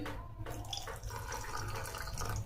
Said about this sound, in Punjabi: ਹੁਣ ਆਪਾਂ ਇਹਦੇ ਵਿੱਚ ਪਾ ਦਵਾਂਗੇ ਠੰਡਾ ਪਾਣੀ